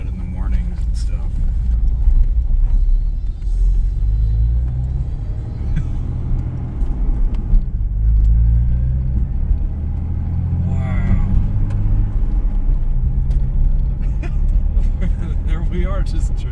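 A Jeep Cherokee with a 4.0L engine, recently repaired after a cracked piston, drives around town with a steady low engine rumble inside the cabin, while people talk over it.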